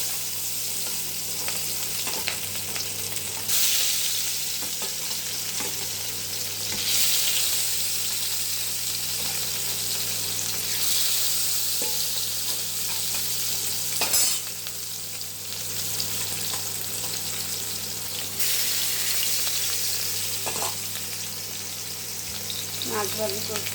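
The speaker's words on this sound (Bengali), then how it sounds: "মাছ ভাজি করছি" Fish frying in a pan, a loud continuous sizzle and spatter that holds steady for over twenty seconds, with occasional faint clinks from a utensil.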